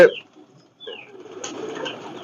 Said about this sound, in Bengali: তিন চারশো কবুতর আছে পাকিস্তানি হাই ফ্ল্যাট